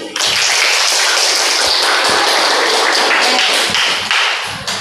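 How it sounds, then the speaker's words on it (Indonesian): A classroom of students applauds the group that presented, with loud, dense clapping from many hands nearby that holds steady for several seconds before easing slightly at the end. "tepuk tangan sekali lagi untuk kelompok yang maju"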